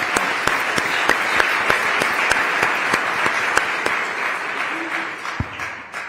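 A crowd at a Justice Department Civil Rights Division event honoring Martin Luther King Jr. breaks into sustained applause, with dense, steady clapping and a few sharper individual claps that thin out toward the end.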